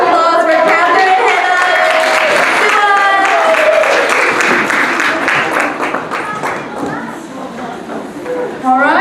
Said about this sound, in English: Can we get another round of applause for Catherine and